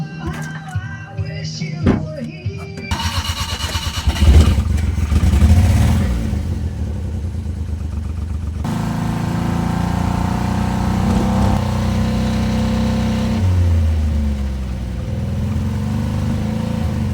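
Car engine running in a repair shop after work on it, a steady mid-pitched hum with a few louder revs and clatter near the start, close by and continuous.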